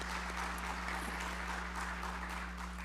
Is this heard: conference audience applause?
yes